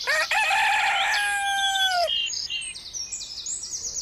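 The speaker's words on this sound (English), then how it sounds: "rooster" A rooster crows once, loud and close, a long drawn-out call that rises and then trails off, followed by softer chirping bird calls.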